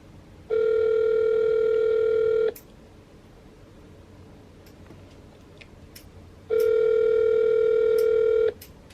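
Two long, loud electronic ringback tones, each about two seconds, separated by a few seconds of quiet line hiss; no talking.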